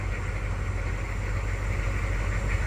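A flatbed semi-truck engine running at a steady low idle, a continuous deep rumble close by, no talk.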